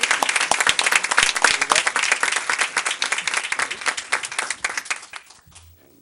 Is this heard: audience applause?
yes